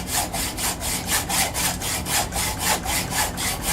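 A hacksaw held against scrap wood cuts through a UK 59 VZ gun barrel clamped in a vise for a Mosin Nagant build, with loud, close, rhythmic back-and-forth rasping strokes, about two per second, and no voices.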